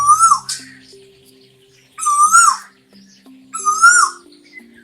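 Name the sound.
male Asian koel calling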